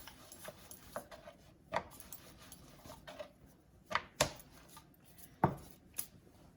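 Besan paratha dough of chickpea flour is rolled out with a rolling pin, irregular light knocks and taps of wood on a board spaced across the stretch, fairly quiet with no voices.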